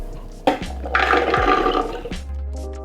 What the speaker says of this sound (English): I'm going to start by blending all my wet ingredients with my chickpeas and my dates